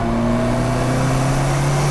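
Turbocharged car engine pulling hard under about 6 psi of boost near 5,000 RPM, a loud, steady close-up drone with rising harmonic pitch throughout, no talk.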